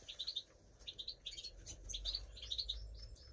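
Caged goldfinches chirping in a bird room, quick bright twittering calls in repeated bursts, faint and somewhat distant over a low background rumble.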